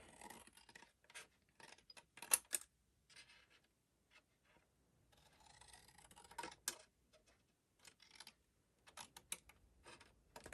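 Scissors snip off the corners of paper for a country bunny basket craft, a series of short, quiet, close cuts and paper rustles with pauses between them.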